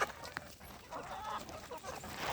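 Chickens clucking softly in a farm barnyard at evening, faint scattered clucks and murmurs at some distance over a low background hiss, with no clear talking.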